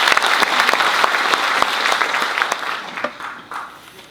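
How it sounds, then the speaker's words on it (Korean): An audience claps steadily at a National Assembly policy forum on agricultural product processing centers, a dense, sustained burst of applause that thins slightly toward the end. "박수 한번 드리겠습니다."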